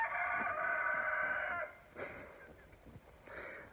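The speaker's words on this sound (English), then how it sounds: "The roosters are over there doing what they do best" A rooster crows once, faint and somewhat distant, followed by quieter clucking and another short crow toward the end.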